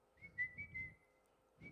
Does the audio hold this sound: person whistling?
yes